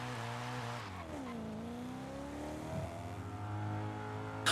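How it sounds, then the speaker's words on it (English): A BMW M5 in the Forza Horizon racing game, its engine droning loudly and steadily with pitch sweeps as it shifts and revs, plus a brief tire squeal, and no talk. "Next up, it was Cluckson's turn, in the BMW M5."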